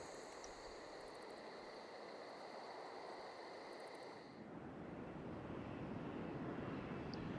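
Bomber aircraft attacking a city in Civilization VI, a steady droning engine roar with a hissing rush that shifts midway into a deeper rumbling noise, moderately quiet and without talk.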